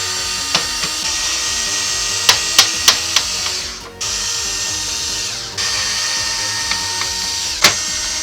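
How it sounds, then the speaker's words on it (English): Screws being backed out of an HP Omen 25 desktop PC case on a workbench, giving a steady whirring drill drone with several sharp clicking ratchet-like ticks scattered throughout and a brief dip partway. "we just need to remove those screws"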